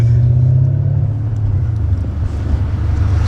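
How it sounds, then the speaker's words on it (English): Low, steady engine drone from inside a moving BMW E39 M5, a deep rumble holding evenly throughout with no speech, the note easing slightly partway as the car cruises. "We're actually in a E39 M5 right now."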